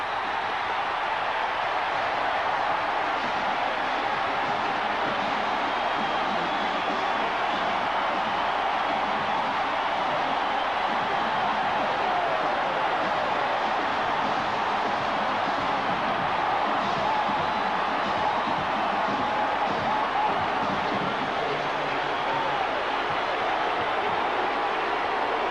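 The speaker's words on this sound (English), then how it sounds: "And listen to the crowd." A stadium crowd roars steadily at the 1992 Michigan vs Ohio State college football game, a broad, continuous wash of distant cheering with no break.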